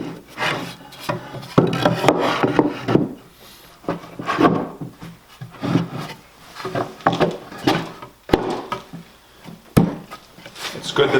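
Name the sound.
wooden knock-down display shelf pieces fitted together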